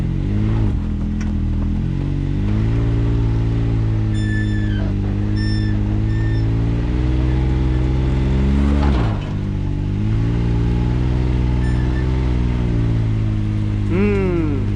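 A Can-Am off-road vehicle in the sand dunes at Glamis revs hard and loud throughout, its engine pitch rising and falling in long sweeps with one sharp dip midway, close and continuous, with no voices.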